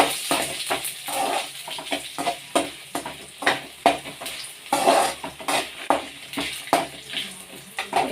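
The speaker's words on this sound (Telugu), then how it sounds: "ఇదే నూనెలో ఎండుమిరపకాయలు, ఆవాలు, జీలకర్ర, ధనియాలు అన్నీ వేస్తున్నాను. ఇవన్నీ బాగా వేగేదాకా వేయించుకోవాలి." Dried red chillies, mustard seeds, cumin and coriander frying in oil, a busy close sizzle with rapid crackling pops and repeated stirring scrapes throughout.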